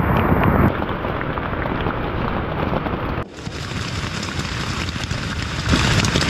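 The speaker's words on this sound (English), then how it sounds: "I think the rains are coming down a little bit." Heavy rain pouring down on a beach campsite during a storm, a dense steady hiss with gusty wind, close and loud, continuous with a brief dip partway through and no talk.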